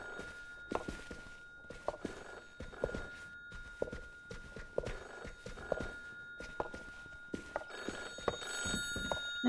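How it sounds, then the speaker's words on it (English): A telephone bell rings in an indie story game set in a 1930s-style Berlin apartment, sounding in repeated short bursts about once a second, fairly faint, with soft thuds between rings. "The phone."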